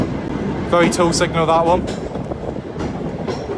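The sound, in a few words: heritage railway train running into Buckfastleigh station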